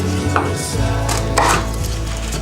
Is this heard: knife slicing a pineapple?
yes